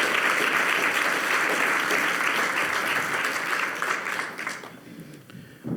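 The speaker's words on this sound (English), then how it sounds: "you can go ahead and clap it up." A room full of people claps loudly and continuously, the applause thinning out and fading near the end.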